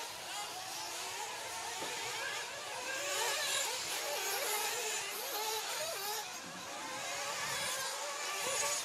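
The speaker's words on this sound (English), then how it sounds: "you'll see the orange car of Battle as they come up the hill and go over the steps now" An orange rally car drives up a hill during a racing main final. Its engine whirs and buzzes continuously and gently swells in intensity over a steady background din.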